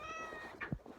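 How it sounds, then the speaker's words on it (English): A shy house cat gives a single short, soft meow near the end, faint and close against a quiet background. "She's a very awkward and shy cat."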